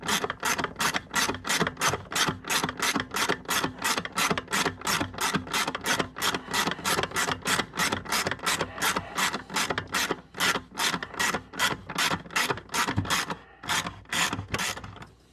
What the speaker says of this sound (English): you can see the bolt I'm turning